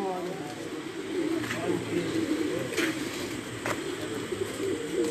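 Pigeons coo softly on a rooftop amid a steady background hum, their low repeated calls faint and continuous, with a few brief sharper clicks.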